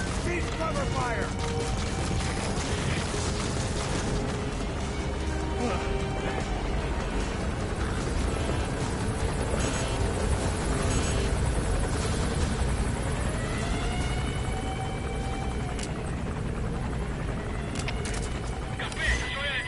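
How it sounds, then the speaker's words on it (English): Helicopter rotor chopping steadily throughout in the Metal Gear Solid V video game, loud and continuous, with battlefield mechanical noise and scattered game voices and chatter over the drone. "Yeah, helicopter."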